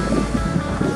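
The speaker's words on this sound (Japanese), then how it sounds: "伸びて伸びてインサイドからショアブレイクですね。" Shore-break surf rolls in continuously at a beach in light offshore breeze, a loud, close wash of breaking waves with rumbling low end and no voices.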